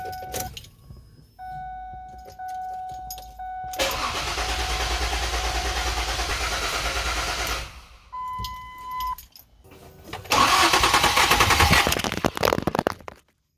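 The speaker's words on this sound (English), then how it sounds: "it just sits there and cranks and cranks and it won't fire" A car engine cranks repeatedly without firing, in several long whirring bursts separated by pauses, loud and close, with faint electronic tones between attempts and no talk.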